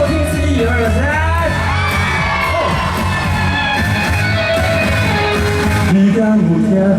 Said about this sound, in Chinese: 全场再一次尖叫，给我听一次